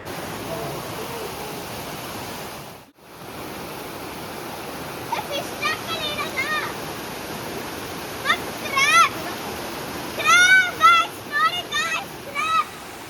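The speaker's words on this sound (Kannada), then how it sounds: "ಹಾಗೆ ದಾರಿಲಿ ಹೋಗ್ತಾ ಒಂದು ನೀರು ಸೌಂಡ್ ಕೇಳಿಸ್ತಿತ್ತು ಅಂದ್ಬಿಟ್ಟು ಹೋದ್ವಿ" A small roadside waterfall rushes in a steady, even roar close by, while voices and high chirping sounds break in over it during the second half.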